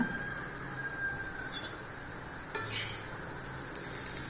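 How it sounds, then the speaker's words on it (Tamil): Pieces of bitter gourd drop into simmering sambar with a couple of soft splashes and clinks over a low, steady bubbling hiss. "பாவக்காய் எல்லாத்தையும் இதில் போட்டுடலாம்"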